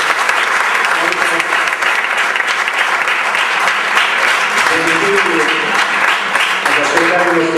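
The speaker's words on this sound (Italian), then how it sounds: "Quindi intanto vi chiedo di fargli un applauso" Loud, sustained applause from an audience at a music-industry event fills the whole span, and a voice starts speaking beneath the clapping toward the end.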